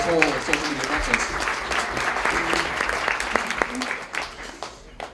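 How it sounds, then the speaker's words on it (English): Audience applause at a social media breakfast meetup, a steady burst of clapping from a room of people that fades toward the end, with a voice briefly audible at the start. "So can we give a little applause to Donna for sponsoring this whole social me"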